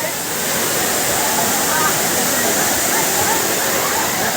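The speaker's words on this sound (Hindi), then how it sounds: "आप देख सकते हैं झरना" A waterfall at Ghatarani roars in a steady, dense rush of broadband noise, loud and constant throughout with no pauses.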